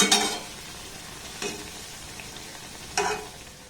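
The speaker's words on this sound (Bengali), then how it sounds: "আর একইভাবে সবগুলোকে আমি ভেজে নেব।" Banana and egg pitha fry in hot oil with a low steady sizzle, broken by three short clattering scrapes of a spatula or slotted spoon.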